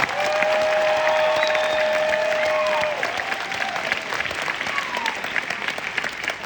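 Audience at a motivational talk applauds loudly and continuously, with whistles or cheering tones over the dense clapping early on before it thins slightly.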